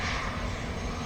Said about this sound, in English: I think that one's a private jet.